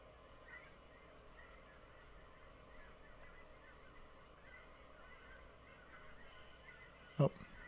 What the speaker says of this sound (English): Oh, fucking geese outside.